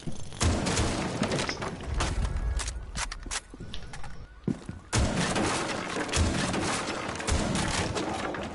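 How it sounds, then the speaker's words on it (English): A frag grenade blast in Rainbow Six Siege lands among a rapid run of sharp in-game gunshots and thuds. A loud burst comes near the midpoint, and dense impacts and footsteps continue around it, with no talking. "Going frag grenade."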